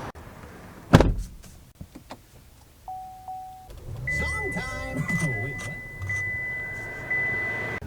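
The door of a new Buick Enclave SUV is opened and someone climbs in, with a sharp click and thump followed by rustling, interior shuffling and a steady electronic chime.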